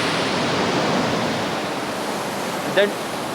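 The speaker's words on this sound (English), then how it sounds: "This is called Dettifoss, Europe's most powerful waterfall" A continuous, heavy roar of falling water from Dettifoss waterfall in Iceland fills the clip, broad and unbroken, with a brief voice near the end.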